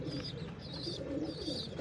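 Several pigeons cooing close by at a home loft, a continuous overlapping murmur of low throaty coos with faint higher chirps above, steady throughout with no speech.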